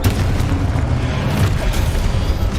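A Confringo fire spell bursts in the video game Hogwarts Legacy, a loud, continuous deep boom and rumble of explosive combat noise throughout.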